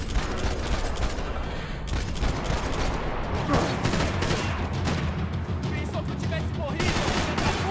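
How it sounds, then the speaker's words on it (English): Dense, continuous gunfire in the video game Max Payne 3, rapid overlapping shots and bursts, loud and close throughout, with a player talking over it. "Stop talking, start shooting."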